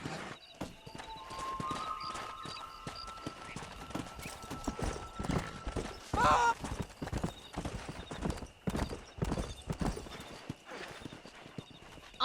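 Horse hooves clip-clop steadily at a gallop in Red Dead Redemption on PS3, close and continuous over several seconds, with an occasional whinny and faint talk underneath.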